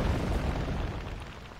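Artillery shells detonate in a Contra mod real-time strategy match, a dense, continuous rumble of overlapping booms sustained and loud throughout, with no pauses between blasts.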